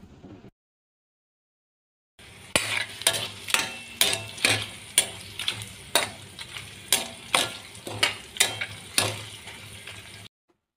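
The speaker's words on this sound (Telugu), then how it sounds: "ఇవన్నీ వేగిన తర్వాత మనం కట్ చేసుకున్న 6 పచ్చిమిరపకాయలని కూడా ఇందులో వేసేసుకుని" Six cut green chillies frying in a pan for mutton curry, a close sizzle with regular, rhythmic stirring scrapes about twice a second, starting after a brief silence and stopping abruptly.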